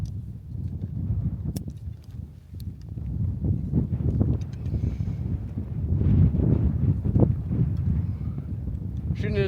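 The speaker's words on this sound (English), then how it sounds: "Shooting into some good wind here." Gusty outdoor wind buffets the microphone in a steady low roar, swelling louder toward the end, during target practice with a bow sight; a person talks briefly over it.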